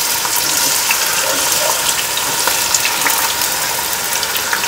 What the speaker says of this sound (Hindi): अब इसमें ये सारी प्याज डाल देते हैं।